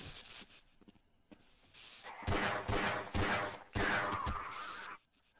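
Rapid bursts of gunfire from a weapon in the Half-Life video game, several loud volleys in quick succession after a quieter lead-in, ending abruptly.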